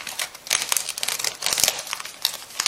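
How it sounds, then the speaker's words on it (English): A blade cuts through the shell of a frozen spiny lobster beside the legs, making close, irregular crackling and crunching bursts throughout. "right here next to the legs, I'm going to insert the blade and cut here too"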